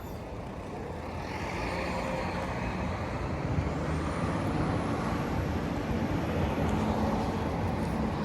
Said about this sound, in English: Another trolley bus. 19 Kingsway.